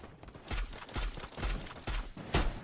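Gunfire in the video game Garena Free Fire, heard as a rapid series of sharp, punchy shots in bursts of about six or seven over a few seconds, loud and close.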